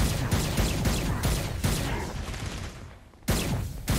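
Gunfire in the video game Saints Row: Gat Out of Hell, dense bursts of rapid shots and explosions with a brief lull before a loud volley resumes.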